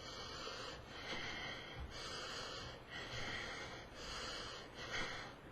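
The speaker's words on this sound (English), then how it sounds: "So they breathe like that." Heavy, exaggerated breathing demonstrating shoulder-driven breathing, a series of loud rasping inhale and exhale cycles about once a second, close to the microphone with no talk.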